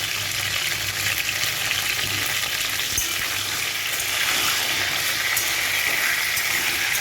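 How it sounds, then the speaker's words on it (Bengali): Pointed gourd (potol) pieces frying in oil with salt, a loud, continuous close-up sizzle holding steady throughout with faint stirring. "আমি এখানে 1 চামচের একটু কম নুন দিয়ে পটলগুলোকে ভালো করে ভেজে নেব।"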